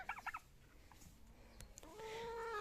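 This year's young turkeys kept on a small farm alongside chickens call out with short, faint warbling gobbles, one burst at the start and a longer one near the end.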